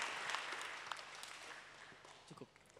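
Audience applause in an Indonesian talk on becoming a millennial preacher, a soft crowd clapping that fades steadily away, with a few faint voices near the end.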